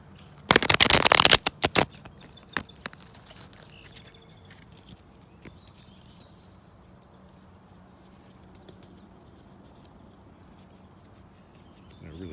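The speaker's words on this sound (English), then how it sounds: "we're going to shuffle up and lay out some cards here" A quick burst of Wildwood Tarot card shuffling up close for about a second and a half, then a few soft taps and handling noises over a faint outdoor hum with insects on a humid early morning.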